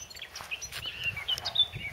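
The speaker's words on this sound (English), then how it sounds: "if that bird up there would just be quiet for a minute while I talk" A bird sings outdoors among a permaculture garden of soft fruits, faint chirps and short tweeting notes heard from up above, quiet and fairly distant.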